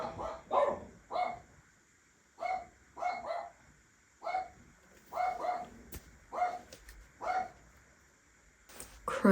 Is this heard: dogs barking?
yes